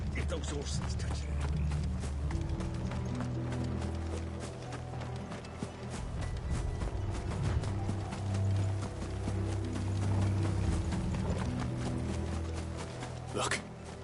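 Horses gallop in Final Fantasy 16, steady rapid hoofbeats and clattering under game music, with a brief whinny and some rustling near the end.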